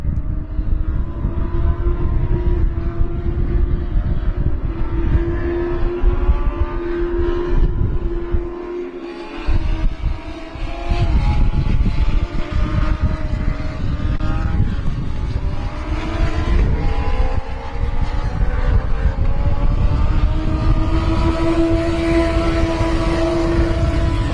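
US Legend Cars racing at Thompson Speedway, a loud continuous roar of several engines rising and falling as cars pass close by, with a brief drop around mid-clip before the pack returns.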